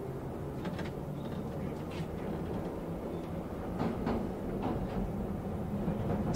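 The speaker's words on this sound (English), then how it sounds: "Subway." Rumbling subway train running along the tracks, with scattered clacks and squeaks over a continuous low roar that swells slightly midway.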